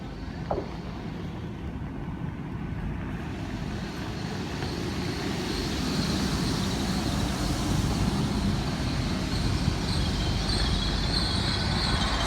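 A Great Western Railway IET train pulls out of Cheltenham Spa station on the Great Western Main Line, its rumbling engine and wheel noise holding steady and swelling slightly louder as it departs, with no talking.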